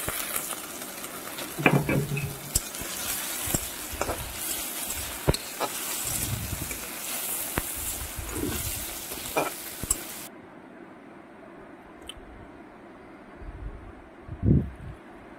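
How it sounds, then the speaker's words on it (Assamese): Tomatoes and paneer frying in a pan, stirred with repeated scrapes and clanks over a constant sizzle, then the sizzle drops away, leaving quieter handling and a final stir. "এতিয়া বিলাহীখিনি দি অকনমান ভাজি লম"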